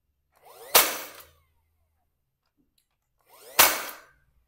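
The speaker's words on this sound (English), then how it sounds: "just take your other pieces that you have, nailing them onto the front, just like that" Two loud, close impacts ring out about three seconds apart, fitting nails being driven into wooden pieces on the front of a flower box, with silence between them.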